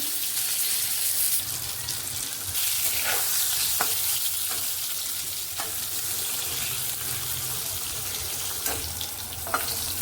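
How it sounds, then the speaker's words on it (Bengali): Steady sizzling of eggplant lightly frying in a hot wok, with a few light scrapes of a utensil stirring, close and continuous with no talking. "বেগুনটা হালকা করে ভেজে নেব"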